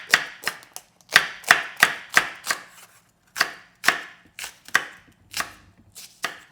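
A knife chops an onion on a cutting board in a steady run of crisp, close knocks, about a dozen sharp strokes with brief pauses between groups and no talking.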